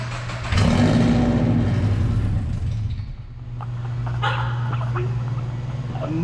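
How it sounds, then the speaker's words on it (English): A Subaru BRZ engine, with no exhaust fitted, cranks and fires into a loud, raw, close idle that blips and settles into a rough steady drone, while a dog barks and whimpers nearby. "Kaden's gonna fire this thing up just for shits and giggles so we can hear what it sounds like."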